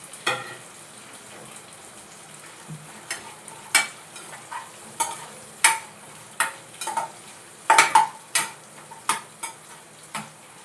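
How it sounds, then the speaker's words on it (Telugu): Cashews, black pepper and cumin fry in a pan with a soft continuous sizzle, broken by repeated sharp scrapes and taps of a spoon stirring against the metal. "ఇప్పుడు బాగా వేగిపోయిందండి జీడిపప్పు ఇవి."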